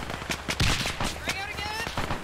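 A frag grenade goes off in the military shooter Arma 3 amid rapid gunfire, a heavy booming burst standing out from crackling shots, with voices talking over the combat.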